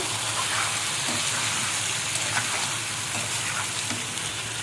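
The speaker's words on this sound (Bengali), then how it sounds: "এখন আমি মাংস আর আলুটা একসাথে ঢেলে দিচ্ছি কড়াইয়ে" Chicken and potatoes fry with browned onions in a kadai, making a dense, even sizzle that runs without a break at close range.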